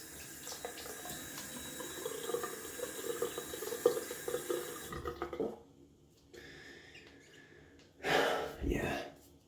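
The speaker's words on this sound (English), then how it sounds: "Gonna wet the face with some cold water." Cold water running from a bathroom sink tap while someone splashes it onto their face, a steady close stream that stops, followed by a brief louder splash and wet rubbing near the end.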